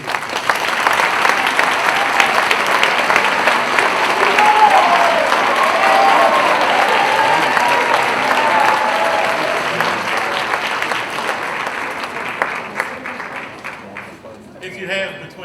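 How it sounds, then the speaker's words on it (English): Large audience applause at a Pulaski County Public Schools convocation, a loud, dense and sustained roar of many hands clapping for long-serving employees, holding steady before tapering off near the end. "If you have between 20 and 30 years of employment with Pulaski County Public Schools, to a little larger round of applause"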